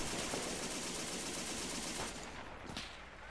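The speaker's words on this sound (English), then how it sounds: "They're shooting at me." Sustained automatic fire aimed at the player's tank in a WW1 trench battle game rattles continuously as a dense, noisy roar, easing slightly near the end.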